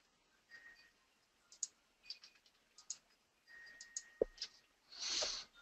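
Computer mouse clicks selecting several items in SAP Business One software, a run of sharp, close ticks at irregular intervals, followed by a short louder rustle at the end.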